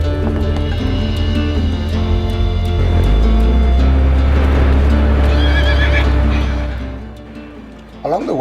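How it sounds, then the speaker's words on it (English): A stallion beside an old ruined farmhouse and barn along a gravel road lets out loud neighs and whinnies, with hoof clip-clops and a low engine rumble running underneath. "with a stallion greeting us welcome"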